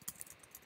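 Computer keyboard keys tapped in a short burst of several quick, light clicks, close and fairly quiet, with no speech.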